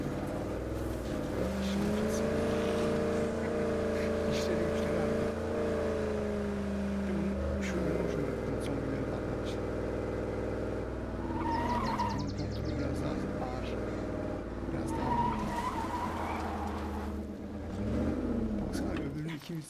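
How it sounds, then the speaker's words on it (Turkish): Car driving in the zombie survival game State of Decay 2, with a steady engine drone that rises and falls through the clip, mixed with other game sounds and some rougher scraping moments that could be skidding. "Araba."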